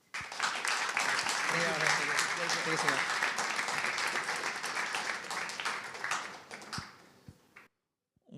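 An audience at a tech meetup in France gives steady, full applause lasting several seconds, then tapers off and stops; a voice briefly speaks over the clapping.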